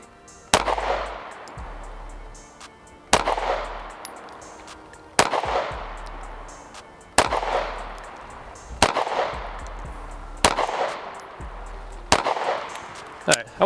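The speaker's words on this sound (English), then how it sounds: "we're gonna go back to 7 yards and shoot a 5-shot group here" Pistol fires a five-shot group at 7 yards on a range, loud sharp reports spaced about two seconds apart, each trailing into a brief echo.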